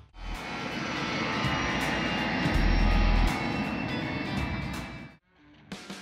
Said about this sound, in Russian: за твоей спиной пытается совершить посадку самолет, а после снова взлетает